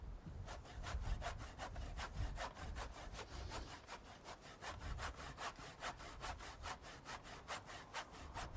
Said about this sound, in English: I don't often use a handsaw, but the notching those posts out, the cut's slightly deeper than the blade on my saw, so I need to just do it by hand.